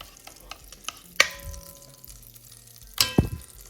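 Onions hit melted butter in a pan during home cooking, giving a sharp clatter and sizzle burst at about 1.2 s and another louder clang and sizzle near 3 s, with low frying hiss between.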